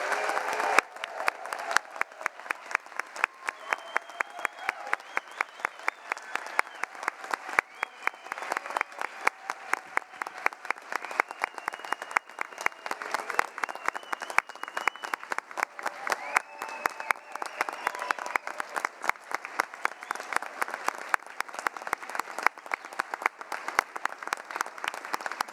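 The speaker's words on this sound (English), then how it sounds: "join me in yet another roaring round of applause for our amazing graduates" Applause fills a hall at a Duke engineering master's hooding ceremony for graduates, dense and sustained clapping from a large crowd lasting the full span, with faint voices and cheers mixed beneath.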